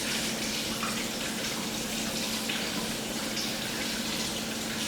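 A kitchen tap runs full and steady while frozen crab is rinsed clean, a constant close hiss of water with a faint tonal hum underneath and no voices.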